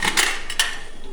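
A steel Prestige pressure cooker being handled, producing a few bright metallic clanks and knocks close by, with two distinct clatters followed by a lighter tap, otherwise quiet.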